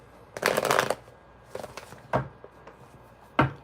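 A deck of tarot cards is shuffled close by: one long riffling burst, then a few shorter, separate shuffles, with quiet room tone in between.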